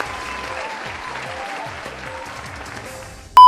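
Steady applause from a crowd rolls on for about three seconds, fairly loud and even, then cuts off abruptly into a loud electronic tone.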